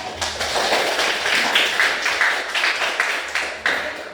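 Children in a classroom clapping their hands together, a burst of many overlapping claps in a quick uneven patter that continues steadily for several seconds, close and fairly loud.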